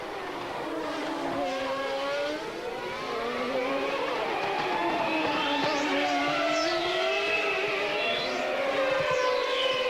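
Formula 1 cars scream through 1994 Australian Grand Prix qualifying with Michael Schumacher pushing hard, high engine notes rising and falling through gear changes, with passing cars sweeping by, loud and continuous.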